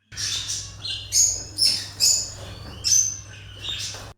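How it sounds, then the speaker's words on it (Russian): Venezuelan amazon parrots at a zoo give a series of about six loud, squawky whistling calls in quick succession, close by, with a low steady hum underneath. "точнее венесуэльский амазон, попугаи. Они уже поменяли оперение и своими песнями готовы встретить зиму."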